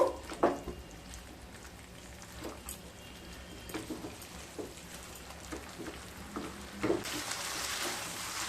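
Pumpkin pickle being stirred and mixed with mustard oil in a pan over a gas flame, with soft scraping and faint sizzling, occasional louder spoon knocks and a brighter hiss near the end.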